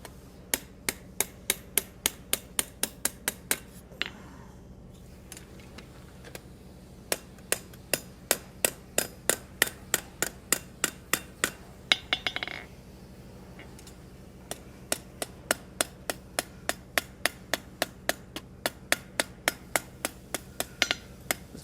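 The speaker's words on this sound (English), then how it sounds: "Be meticulous with your hammer blows at this step." Hammer striking a steel pin to drive it out of a hand-forged hinge, a crisp metallic ringing tap repeated in steady bursts with short pauses, close and fairly quiet.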